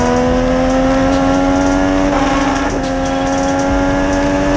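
Onboard a race car on a Grand Prix street course, the engine screams at high, steady revs with a brief dip and shift mid-way, loud and close throughout, with no talk.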